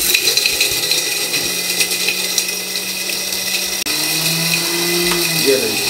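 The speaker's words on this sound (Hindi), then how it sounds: "इन सब चीज़ों को अच्छे तरीके से हम ग्राइंड कर लेंगे, लेकिन बहुत ज़्यादा ग्राइंड नहीं करेंगे" A kitchen grinder whirs in steady bursts as it coarsely grinds dry fruits for ladoo, a continuous motor drone that stops briefly and restarts, with no talk over it.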